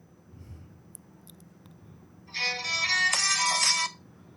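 After a quiet stretch with a few faint clicks, a bright electronic phone ringtone plays for about a second and a half, then stops.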